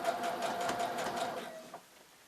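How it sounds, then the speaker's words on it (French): A sewing machine topstitches fabric for a crossbody cube bag in a brief, close, steady whirring burst that slows and stops, heard alone without talk. "Pour faire la surpiqûre, mettez le tissu comme ceci, aplatissez-le et commencez donc à faire la surpiqûre."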